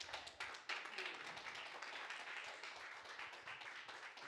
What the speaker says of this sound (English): Keep clapping, y'all.